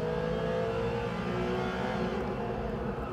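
A Porsche Cayman engine in Gran Turismo 7 drones steadily and loudly with a continuous accelerating tone, heard alone with no voices for about three seconds.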